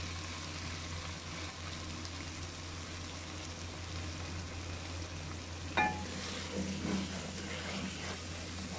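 Okra masala gently sautéing over low heat, with a soft, steady sizzle and a low hum running throughout. A spoon scrapes the pan once near the end and a few light stirring knocks follow.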